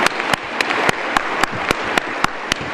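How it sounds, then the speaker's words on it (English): Sparse audience applause at a cystic fibrosis conference plenary session, with scattered sharp individual claps standing out over a soft, steady wash of clapping, moderately distant and without speech. "I want to clap on that"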